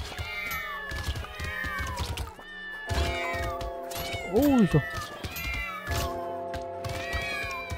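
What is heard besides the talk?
cat meowing sound effect in video game Brotato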